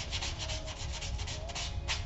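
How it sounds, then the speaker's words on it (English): Light hand sanding across thin single-layer 2 to 3 ounce leather wallet pieces, close steady rubbing strokes in an even back-and-forth rhythm, with no talking. "I'm sanding very, very lightly on these"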